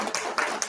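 A birthday celebration audience clapping briefly, scattered hand claps rising in a few soft bursts, moderately close with no talk.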